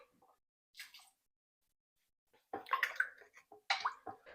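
Water poured from a measuring spoon into a slow cooker for a recipe with ketchup and soy sauce: a faint trickle and a few short splashing pours close by, with no talk.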